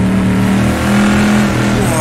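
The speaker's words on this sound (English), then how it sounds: "I'm gonna get on the throttle sooner." A Chevrolet Stingray Corvette from the 1960s, driven in a racing video game on a desert track, roars under throttle, its loud engine note rising steadily as it accelerates hard out of a corner.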